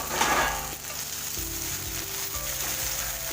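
Potatoes fry under a lid in a covered pan, browning for a rohu fish dish: a steady, close, dense sizzle with a constant hiss and low hum throughout.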